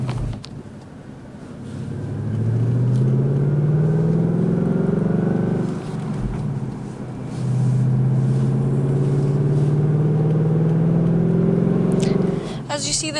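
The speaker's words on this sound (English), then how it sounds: "As you see, the V8 engine pulls hard." The V8 engine of a Ford Mustang GT convertible accelerates hard twice, each run rising in pitch as the car pulls through the gears, with wind rush around it and a gap between the pulls.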